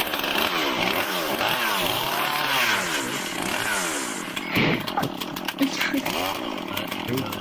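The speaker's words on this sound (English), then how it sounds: "Damn, it's a sick chainsaw" Chainsaw revving in VRChat during a Halloween slasher event, wielded by a Leatherface-style character; a loud, continuous buzzing engine that rises and falls repeatedly, with people talking over it.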